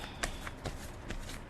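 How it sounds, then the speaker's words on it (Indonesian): Tarot cards being shuffled by hand, a series of quick papery riffles and slaps at an uneven rhythm, close and fairly quiet, with no talking. "Kalau mau sambil nemenin aku shuffle kartu"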